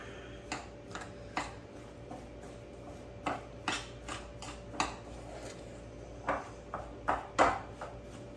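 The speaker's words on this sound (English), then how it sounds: "you're gonna add your crumbs to the melted butter. All right. And you're gonna mix it all up." Light, irregular ticking and tapping of a utensil against a bowl while Oreo crumbs are mixed into melted butter, a dozen or so soft knocks over a steady background hum.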